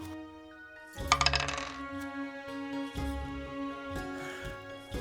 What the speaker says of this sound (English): I'm going to roll this dice right here